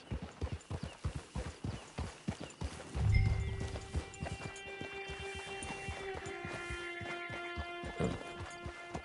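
In the video game Red Dead Redemption Online, rhythmic hoofbeats clip-clop steadily, then a horse neighs loudly, with music tones rising beneath and a snort near the end.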